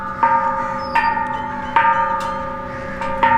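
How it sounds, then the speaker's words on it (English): The Bell of Peace at Taxila is struck four times in uneven succession. Each clear metallic clang rings out and decays slowly before the next, heard up close with a faint outdoor background. "Ring the Bell of Peace."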